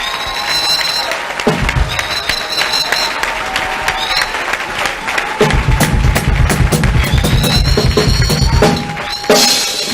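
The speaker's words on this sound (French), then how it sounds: "Je veux que nous puissions acclamer sérieusement" An audience at a formal ceremony applauding loudly, sustained clapping with bursts of cheering and shouting that swell and fall in waves.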